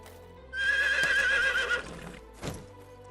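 A horse whinnies loudly in the video game Medieval Dynasty, a long shrill neigh followed by a single thudding hoof step, close and clear with no talking.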